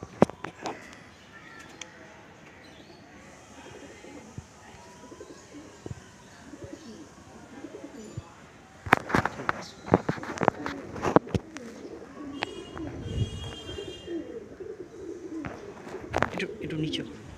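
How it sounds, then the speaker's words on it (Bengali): A male Madrasi pigeon coos in soft, repeated throaty phrases amid other bird calls, growing busier and louder in the second half, with people talking nearby. "এটা নর পায়রা তাই তো? নর পায়রা।"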